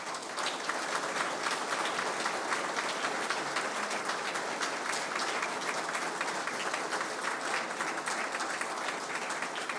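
An audience applauds in dedication to José Francisco Peña Gómez, sustained dense clapping that holds steady and fairly distant for nearly ten seconds, without talk.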